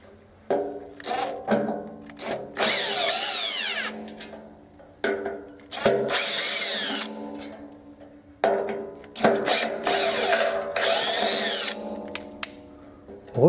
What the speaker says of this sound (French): Alors on va dévisser les 3 vis.